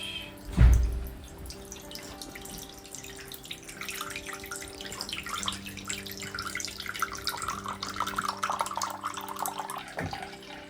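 Spiced elderberry juice drains through a sieve with soft, quiet trickling and dripping after an initial knock, continuing faintly throughout.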